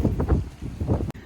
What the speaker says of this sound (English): Oh, excuse that wind,